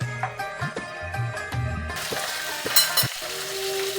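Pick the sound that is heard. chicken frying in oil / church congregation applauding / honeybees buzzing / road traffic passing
chicken frying in oil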